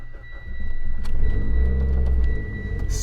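A tuned, built 600 hp 2.2-litre stroker Mitsubishi Lancer Evolution X engine idles with a deep, uneven, loping rumble close by, steady and fairly loud, with a brief whir near the start.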